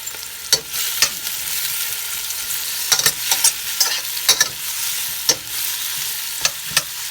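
Onions fry in hot oil, a bright constant sizzle punctuated by sharp, irregular splattering pops and a few stirring knocks, close by and with no voices.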